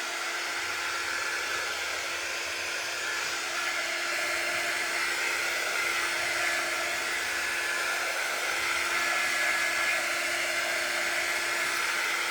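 A hair dryer blows steadily on a handmade Snoopy door round, a loud, unbroken whirring hiss with a constant whine that runs close and even the whole time, with no talking.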